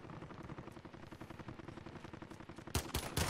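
Rapid automatic gunfire rattles continuously in a Call of Duty: Modern Warfare match, then sharper, louder shots burst in near the end.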